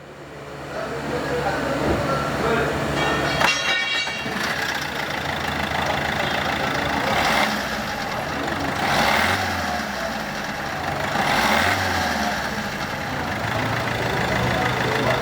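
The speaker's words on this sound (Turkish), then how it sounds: "Araçtaki işlemlere başlamadan önce bir marş yapalım, bir sesi duyalım." An Opel Corsa 1.3 CDTI diesel with a past EGR cleaning cranks over and settles into a steady, rumbling idle, heard up close in a workshop.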